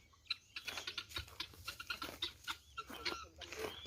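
Chickens cluck in a steady scatter of short, close calls with sharp pecking-like clicks, set outdoors at a work site and heard with no clear talk.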